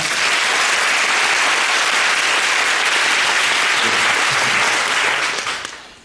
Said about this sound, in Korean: 박수 소리가 너무 커서